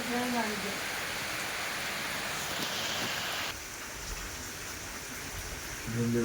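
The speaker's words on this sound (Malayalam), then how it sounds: "നല്ല മഴയാണ്." Rain pours down in a steady hiss, fairly quiet and constant, with a brief shift in tone partway through.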